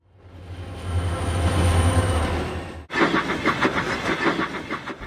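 In a cartoon, diesel trains draw closer on the rails, first a deep rising rumble with a high whine, then a sudden cut to a clattering, rhythmic wheel-on-track clack that stays loud and close.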